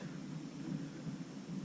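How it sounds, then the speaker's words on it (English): Wind gusting outdoors with a light spit of rain, a steady low rumbling roar at moderate volume that swells and eases throughout, with no voices. "it is quite windy and it is spitting with rain"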